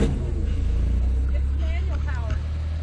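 A manually operated small vehicle rumbles steadily with a low engine drone while driving over a dirt site, heard from inside, with people talking faintly over it.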